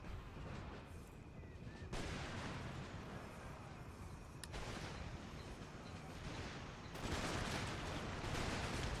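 Cannon fire in an Empire Total War battle booms in repeated heavy blasts that merge with a continuous rumble of distant gunfire, loud and overlapping.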